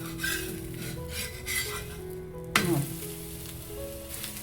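Ragi flour roti cooking on a hot pan gives a soft, steady sizzle with scraping and rubbing as it is pressed and turned, plus a sharp clatter midway.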